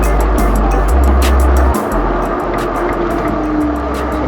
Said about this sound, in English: wait for these cars to pass